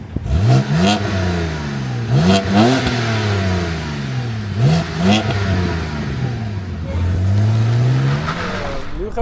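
A BMW Z4 E86 roadster with 220,000 km on it pulls hard through the gears, engine note rising in repeated loud sweeps with short dips at each shift, close and powerful, with occasional voice under the roar.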